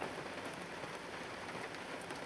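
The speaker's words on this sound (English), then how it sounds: "That's if you can see it through the drizzling rain." Light drizzle patters steadily over mud flats at Milang, a soft, even hiss of fine droplets with no voices, faint and continuous.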